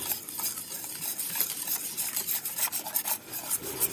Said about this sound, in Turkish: Güzelce karıştırıp ocağa alıyoruz.